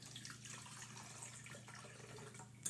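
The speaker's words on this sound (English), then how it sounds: "Okay, poured enough milk in." Milk poured into a container for a strawberry shake, a steady liquid stream running close and fairly quiet for a few seconds with a slight splash at the end.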